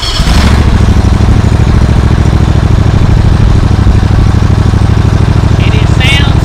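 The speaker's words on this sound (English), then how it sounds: "Hey, Cameron, you know how that old mower was real hard to start? Check this one out." A 2020 Toro Titan mower engine catches after a brief quiet start, then runs loud and close in a steady, throbbing idle, with a short high whine near the end.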